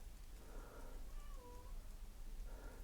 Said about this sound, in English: I want to see the kitty cat.